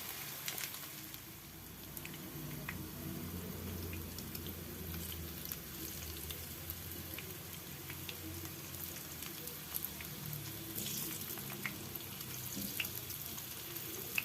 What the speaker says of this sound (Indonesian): Kita goreng tempenya dulu sampai tempenya berubah warna kuning keemasan.